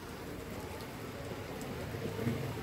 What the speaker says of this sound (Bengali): জোরেই পড়ছে বৃষ্টিটা।